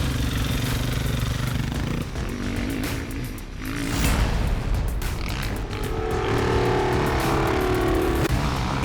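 Toby Price's dirt bike engine drones steadily while climbing a hill, the loud motor holding a sustained throttle with shifts in pitch and a rising surge partway through.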